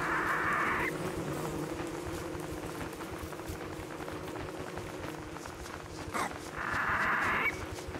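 Bees buzzing in Don't Starve Together, two short bursts of a whining drone at the start and near the end, rising over a low rumbling background bed.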